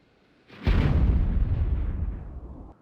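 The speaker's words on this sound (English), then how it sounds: "More cannon fire." A single heavy cannon boom from the video game Myth II: Soulblighter bursts out, then rumbles and decays over about two seconds.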